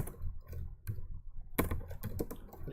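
Typing code on a computer keyboard into a text editor: a quiet patter of key clicks that turns into a quicker, louder burst of keystrokes partway through, with no one speaking.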